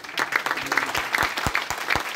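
Scattered, uneven applause from a congregation at a Christmas church service, with separate claps standing out rather than a dense roar, fairly close and moderately loud, no talk over it.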